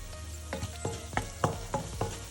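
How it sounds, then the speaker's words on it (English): Minced garlic frying with softened onions in a pan, a soft steady sizzle broken by about seven rhythmic scraping stirs at close range, no talking. "add in your minced garlic cloves and cook that for another couple of minutes"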